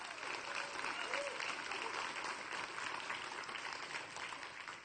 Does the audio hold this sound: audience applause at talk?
yes